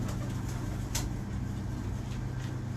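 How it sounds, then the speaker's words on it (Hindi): A prized pigeon coos softly and faintly over a steady low background hum, with a few brief higher chirps. "ये कबूतर क्रीज में लगा हुआ है"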